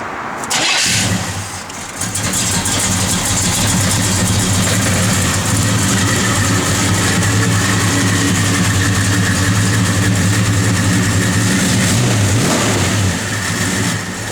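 A 1969 Chevrolet Chevelle SS engine cranking over and catching, then settling into a loud, steady, rumbling idle close by, with a brief blip midway through.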